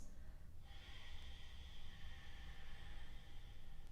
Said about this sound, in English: Notice how you can hear my breath.